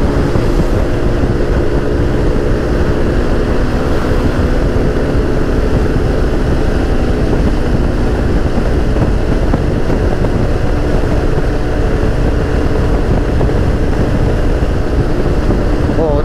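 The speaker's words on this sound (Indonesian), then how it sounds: "Saya dengar bunyi angin ni kot." Strong, steady wind roar buffets the rider on a moving BMW scooter, a loud continuous rush with engine drone underneath, unbroken for the whole stretch.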